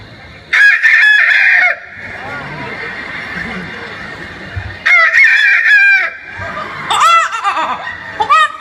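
At a comedy show, a performer's voice imitates a rooster crowing three times in loud, close bursts, with quieter sounds and chatter in the gaps between them.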